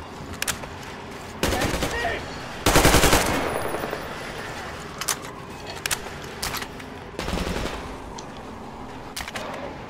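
Gunfire hits the player in the first-person shooter Metro Exodus: sharp single shots and long bursts of automatic fire, with one heavy sustained volley near the start and scattered cracks after it. A voice is heard faintly.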